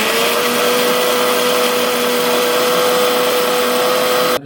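A mixer grinder whirs steadily as it grinds grated coconut with a pinch of cumin, a loud, constant motor drone with a high whine that holds unbroken for the whole stretch and cuts off abruptly at the very end.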